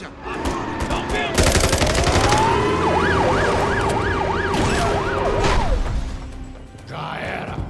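An ambulance siren in the Call of Duty MW3 campaign wails and then yelps in rapid rising and falling cycles. It is loud and close, with gunfire bursts at the start and voices under it.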